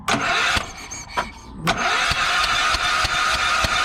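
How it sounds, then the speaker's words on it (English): A Yamaha generator engine cranking over rapidly and rhythmically, a stuttering mechanical churn that pauses briefly before resuming steadily. "Just crank it over."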